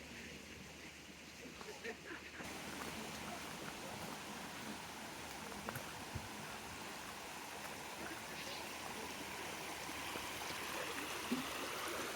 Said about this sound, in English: There's nothing like the sound of running water.